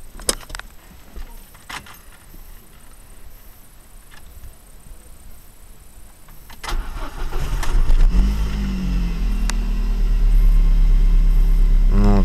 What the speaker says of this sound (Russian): Сейчас заведу, послушай,